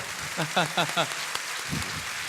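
An audience at a book launch in Valparaíso applauds in a dense patter of claps, with voices heard briefly over it.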